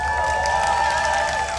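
Crowd at a Starcraft 2 esports match cheering and applauding, a dense roar of voices with shouts on top, loud and sustained over a short burst.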